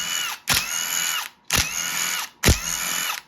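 Power tool on a 2008 Kawasaki KX250F engine, used to remove the cam chain tensioner, whirring in three short, loud bursts about a second apart with brief pauses between.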